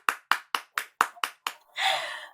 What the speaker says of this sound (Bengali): চলো আমরা তাহলে সবাই একসাথে হাততালি দিয়ে শুরু করি